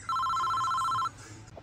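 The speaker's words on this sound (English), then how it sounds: "Oh, wait a sec, my phone's ringing." A phone rings with a single short electronic trill lasting about a second, fairly quiet and clear against a faint background.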